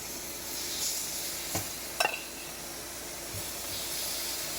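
Shrimp laid in a single layer sizzle gently in warm avocado oil in a pan, a soft continuous frying hiss with a few brief clinks and stirring taps, no talking.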